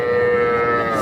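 A young bull calf of a cross breed at a cattle market gives one loud, close, drawn-out moo lasting about a second, steady and tonal with no voices over it.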